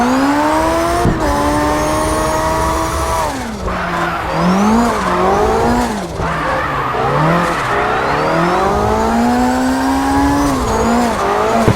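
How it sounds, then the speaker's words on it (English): A BMW drifting around a parking lot, its tires squealing in long sweeping wails while the engine revs and bogs with the slides, loud and close and continuous with no talk. "I'll take that same BMW and throw it around"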